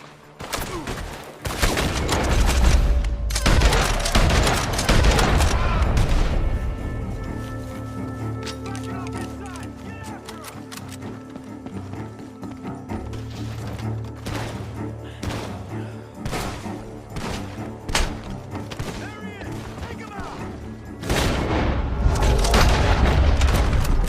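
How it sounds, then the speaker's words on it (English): Bursts of rapid gunfire and heavy booms from Red Dead Redemption 2, loud at the start and end, with voices and game sounds throughout the middle. "The gunshots are coming from that barn!"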